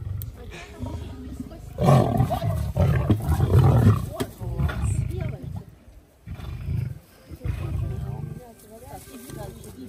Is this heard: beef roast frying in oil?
no